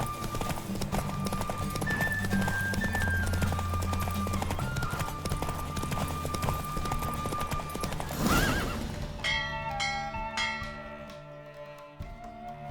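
Hooves clip-clop at a rapid galloping pace during a horse race in The Witcher 3 video game, with a horse neighing and whinnying partway through, loud and close over a musical game soundtrack.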